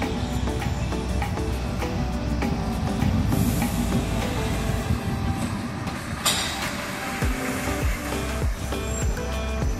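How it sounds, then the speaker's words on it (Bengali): A Darjeeling toy train passes below a monastery, its wheels clattering and rumbling steadily on the narrow-gauge track at close range, with brief hissing and metallic squeals along the way. "আরেকটা টয় ট্রেন নিচ দিয়ে চলে যাচ্ছে"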